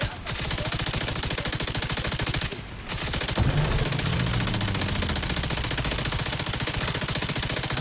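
Sustained automatic gunfire in a video game rattles on loud and fast across the whole stretch, with one brief pause near the middle before the shooting resumes.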